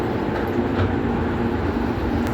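Passenger train ride heard from inside a carriage, a continuous, fairly loud rumbling roar with a steady low drone and a faint high whine, without talk.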